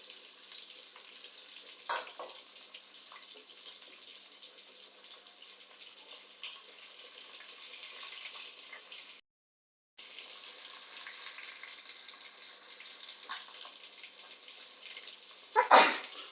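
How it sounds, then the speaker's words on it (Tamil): Fish frying in oil in a pan for a Kerala-style fish fry makes a soft, continuous sizzle with a few spatters, a short silent break, and a sharper clatter near the end. "மீன் நல்லா ஃப்ரை ஆகிட்டு இருக்குது"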